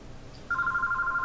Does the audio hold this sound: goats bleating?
no